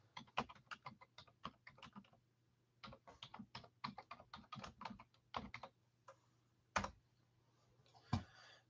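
Bursts of close typing on a computer keyboard, rapid key clicks in uneven runs with short pauses and a couple of louder isolated taps, over a faint steady hum.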